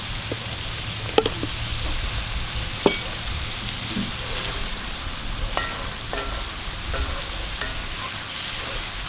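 Squid and spinach sizzling steadily in a pan while being stirred, with a constant frying hiss and occasional scraping clicks from the utensil, close and even throughout.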